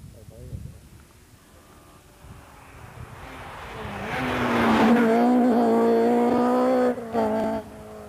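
A Ford Escort rally car rounds a turn at a Millstreet rally stage, its engine swelling from a distant approach to a loud, close, sustained roar, with an announcer talking over the start.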